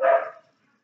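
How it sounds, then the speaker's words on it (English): A single short, loud bark from a dog outdoors, fading out within half a second. "I don't know if y'all can hear my dogs barking."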